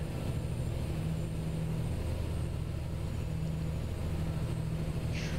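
Mack Anthem truck with a C15 engine in American Truck Simulator, a low steady engine drone with a constant rumbling hum, fairly quiet and unchanging, no talk over it.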